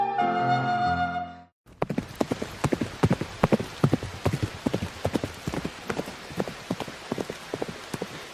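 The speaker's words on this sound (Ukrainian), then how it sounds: "На дорозі до царського палацу чувся тупіт копи." Horse hooves clip-clopping on a road in heavy rain, a steady close rhythm of sharp clops that begins after a short tonal musical phrase ends.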